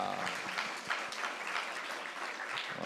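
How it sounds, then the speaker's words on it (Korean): A church congregation at a Parents' Sunday service claps together, a faint, even patter of many hands with a few sharper individual claps standing out. "우리 큰 박수로 고맙습니다."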